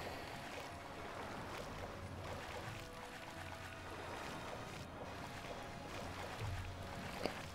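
Water swishing and lapping as a character swims through the sea in the video game Gothic II, a steady close wash of watery movement with no talk over it.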